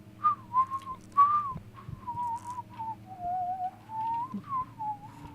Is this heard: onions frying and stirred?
no